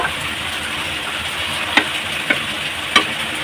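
Fish fry in a pan with a steady, close sizzling hiss, broken by three sharp pops or clicks toward the end, with no talking.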